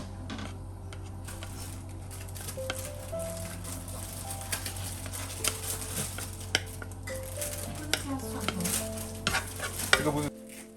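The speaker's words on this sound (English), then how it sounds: "Add some oil into a hot wok. Fry the minced garlic until it gets fragrant." Minced garlic fries in oil in a hot wok with a continuous close sizzle and frequent light clicks and scrapes from stirring, no voices present.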